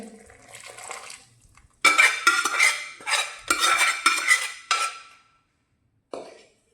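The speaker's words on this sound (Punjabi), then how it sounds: "ਹੁਣ ਆਪਾਂ ਇਹਨੂੰ ਮਿਕਸ ਕਰ ਦਿੰਨੇ ਆ ਚਾਸ਼ਨੀ ਨੂੰ" A spoon stirs and scrapes through thick sugar syrup mixed into gram flour for pinni, giving bursts of loud clattering, scraping strokes against a metal pot, with pauses between, close up and with no talk.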